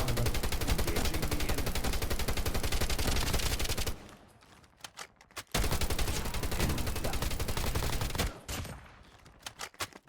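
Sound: gunfire in a video game

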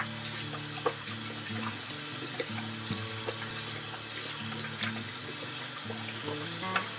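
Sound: hands being washed under running tap water

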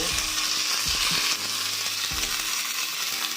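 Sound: curry leaves sizzling in hot oil for tomato rasam

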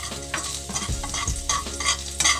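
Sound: garlic frying in hot oil

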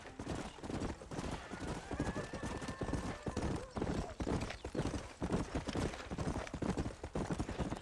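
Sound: horse hooves riding, from video game Red Dead Redemption

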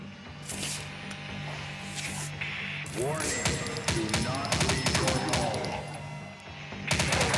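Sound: gunfire in zombie commando shooting video game

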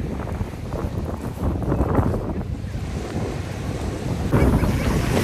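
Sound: strong wind by the Baltic Sea

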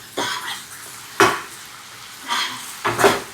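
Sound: tempering sizzling in pan for spiced yogurt

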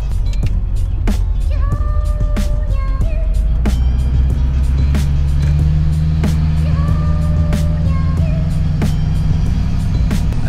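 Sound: Duramax pickup truck driving slowly past police

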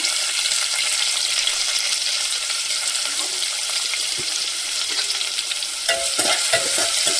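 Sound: frying onion with curry leaves in a pan

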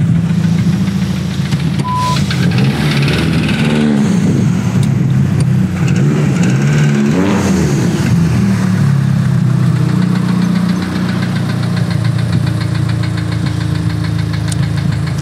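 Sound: car engine running with major engine damage

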